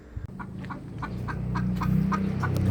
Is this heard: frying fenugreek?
no